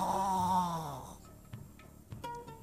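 A voice imitates snoring: a drawn-out, rasping snore, then quiet with a few faint clicks and breaths.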